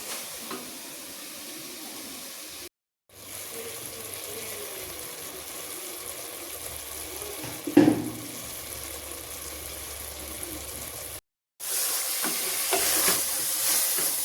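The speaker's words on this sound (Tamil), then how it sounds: "இது அப்படியே ஒரு 5 நிமிஷம் இந்த சிக்கன் வந்து அப்படியே குக் ஆகட்டும் இந்த மசாலாவோடையே." Chicken simmering in biryani masala in a pan, a steady soft sizzle and hiss of frying with a brief sharper clatter midway, no talking.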